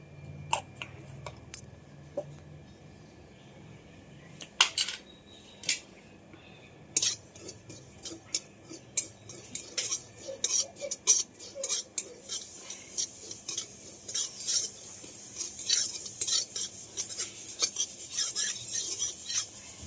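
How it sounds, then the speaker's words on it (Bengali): Two spoonfuls of poppy seeds dry-roasting in a hot, oil-free pan, stirred with a spatula, giving a run of light clinks and scraping ticks that grows busier and denser toward the end. "আমি 2 চামচ পরিমাণ পোস্ত একটু শুকনো খোলায় গরম করে নেব"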